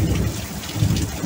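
Heavy rain pours steadily on a veranda roof during a thunderstorm, with deep rolling thunder rumbling close and loud through the downpour, swelling again near the end.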